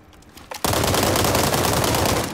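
Automatic gunfire in a free shooting video game: after a quiet moment, a loud, rapid stream of shots bursts in abruptly and keeps up a fast, unbroken rhythm up close, fading slightly at the end.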